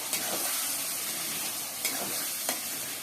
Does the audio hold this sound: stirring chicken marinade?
yes